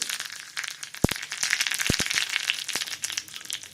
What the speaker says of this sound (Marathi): जिरे तडतडले की दोन हिरव्या मिरच्या